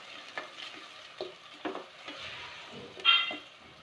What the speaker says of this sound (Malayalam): എണ്ണ ചൂടായി കഴിഞ്ഞാൽ കുറച്ച് ചെറിയ ജീരകം ഇട്ട് കൊടുക്കാം.